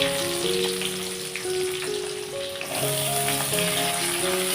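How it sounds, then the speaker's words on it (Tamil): Chopped onions hiss and crackle steadily in hot oil with curry leaves and garlic for tomato chutney, a continuous sizzle under background music. "இப்போ வெட்டி வச்ச வெங்காயத்தை சேர்த்துக்கிறோம்."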